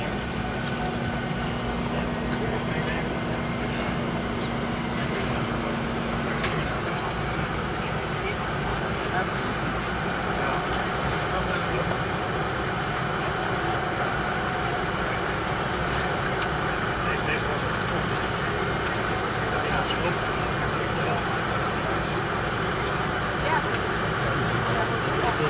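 Continuous, even engine and air roar fills the cabin of a KLM Fokker airliner in flight from London Heathrow to Amsterdam, steady throughout, with speech heard over the drone.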